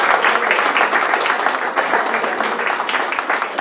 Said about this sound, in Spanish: voy a pedir otro aplauso